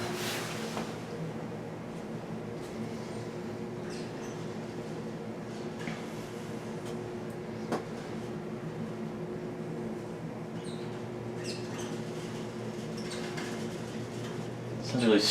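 A vintage Gallaher & Speck hydraulic elevator at Irion Hall, Elmhurst College, runs with a low steady hum, faint creaks and squeaks, and occasional soft clicks and knocks, rising into a brief clatter at the end.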